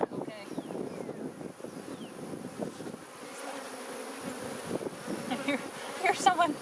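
Swarm of bees buzzing around an open hive box outdoors, a close, fluctuating drone with individual bees passing near, under light wind, while a person talks intermittently.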